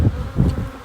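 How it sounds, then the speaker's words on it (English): Worker honey bees buzz inside a crowded hive, a low, close, continuous drone that swells and dips over a moment. "there are lots and lots of bees in this hive"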